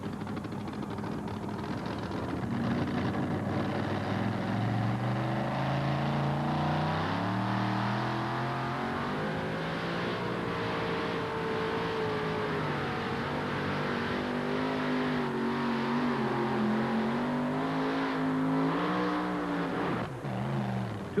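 The Kodiak van's engine roars and revs continuously during a 1988 NTPA truck pull at Syracuse on a muddy track, its pitch climbing and falling in long sweeps, loud and close throughout.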